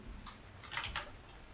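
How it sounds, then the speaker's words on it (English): Soft, distant gun clicks in the video game Space Engineers, a few quick dry ticks with gaps between them over low background noise. "Can you hear that clicking sound?"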